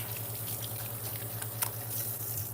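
Running tap water splashing at a kitchen sink while hands are washed with soap after handling raw meat, a steady moderate flow with small scattered splashes and a low hum underneath.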